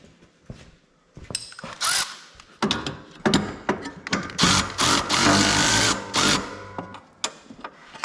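Metal tool work under the deck of a Cub Cadet LTX 1050 riding mower: irregular clicks, scrapes and rattling bursts of a wrench close by, stopping and starting in short spurts.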